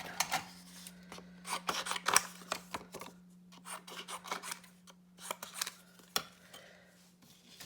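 Scissors snip through printed paper for a mixed media tag journal, with irregular close crisp cuts and rustles, over a faint steady hum.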